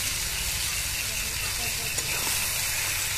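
A pan of spice paste sizzles with a steady, loud hiss as fried potatoes and stingray fish are added, the frying noise continuous and dense throughout.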